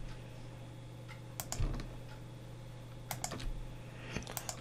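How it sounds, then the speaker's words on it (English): Computer keyboard keys pressed in short clustered bursts of clicks with pauses between, close and fairly quiet over a low steady hum, during Blender texturing work on a treasure chest model. "click shift control and drag"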